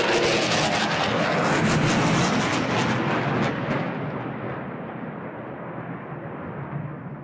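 A military jet roars past over the Farnborough airshow display line, a loud broadband rush that peaks early and then fades as it recedes into a long rumbling tail.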